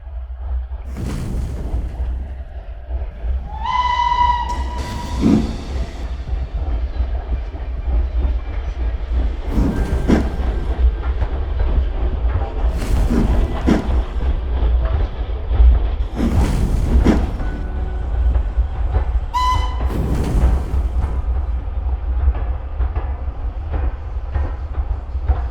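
N gauge model trains run on a Wickwar layout, a soft continuous rolling rumble broken by several clicks and short bursts, with a brief horn-like tone twice.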